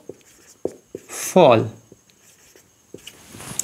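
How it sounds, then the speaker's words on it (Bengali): Chalk or marker writing on a classroom board during a physics lesson, a few short scratchy taps and strokes spread across the moment, with a brief spoken phrase in the middle. "ভালো করে লিখি"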